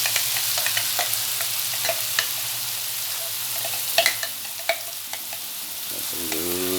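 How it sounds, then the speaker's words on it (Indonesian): Ground spice paste sizzles steadily in hot oil for Indonesian fried rice vermicelli, a continuous frying hiss broken by scraping stir strokes and small pops. "Sudah panas, kita tuangkan bumbu yang tadi kita, bumbu dapur yang kita haluskan."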